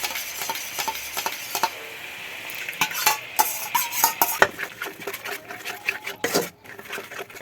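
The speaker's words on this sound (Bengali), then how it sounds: "টক দইটা দিয়ে দিয়েছি, দিয়ে এবার ভালো করে নাড়তে হবে।" A spoon stirs whisked sour yogurt into katla fish kalia curry in a pan, making repeated scraping and clinking strokes against the metal with a faint sizzle beneath, close and fairly steady throughout.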